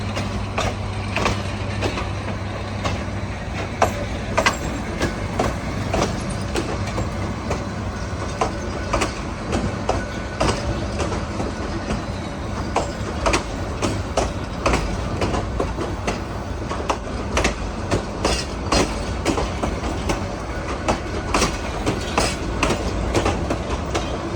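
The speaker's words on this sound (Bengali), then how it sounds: "ট্রেনটি" A train rumbles steadily past at close range at Kaunia Junction in Rangpur, Bangladesh, wheels clattering in a rapid clickety-clack rhythm over the rails for the whole stretch, loud and continuous.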